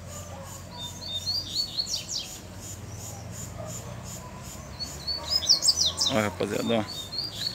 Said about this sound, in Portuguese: olha que coleira bonita